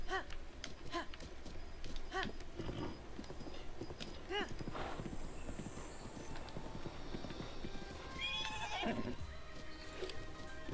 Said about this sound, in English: Other way, Epona. Other way! Glitchy horse